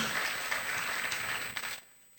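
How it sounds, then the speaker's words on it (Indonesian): A church congregation at a Sunday worship service at GBI Raja Damai claps briefly and densely, then the applause cuts off abruptly into near quiet. "Tepuk tangan bagilah kita."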